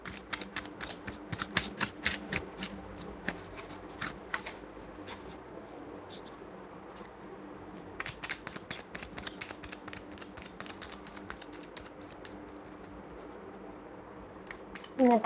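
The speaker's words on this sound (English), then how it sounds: "One more shuffle." Tarot cards being shuffled by hand during a pick-a-card reading: close, rapid papery riffles and taps in bursts, with a quieter lull midway, over a soft background hum.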